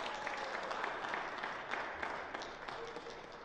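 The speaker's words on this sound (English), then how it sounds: "Congratulations, round of applause." An audience at a singing competition finals claps in a moderate, fairly quiet wash of applause that gradually tapers off near the end.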